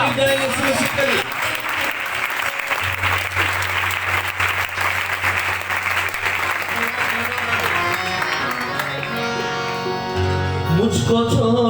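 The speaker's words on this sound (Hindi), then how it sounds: "जोर से ताली दें यीशु मसीह के लिए" A church congregation at a live praise and worship service applauds loudly and continuously, dense clapping throughout with music and a voice carrying underneath.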